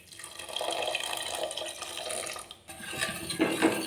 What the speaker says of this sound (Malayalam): കുറച്ച് തിളപ്പിച്ച വെള്ളം നമുക്ക് ചേർത്ത് കൊടുക്കുക